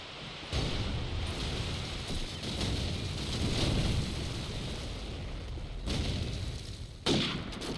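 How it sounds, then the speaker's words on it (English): Gunfire and grenade explosions in a competitive Call of Duty 4 match, a dense continuous rumble of shots and blasts with sharper bursts near the end, loud and sustained without speech. "Diablo with a very nice grenade kill early on Roy."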